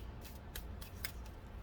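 Stiff tarot cards being handled and riffled in a soft, papery, close-up shuffle, with several quick brushing bursts in a quiet room and no talking.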